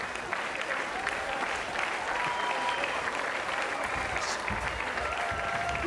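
A fight crowd at a Karate Combat main event keeps up steady cheering and applause, a dense wash of noise that holds without a break.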